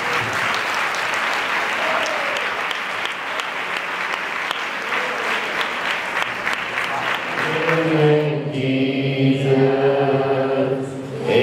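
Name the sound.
congregation clapping in thanks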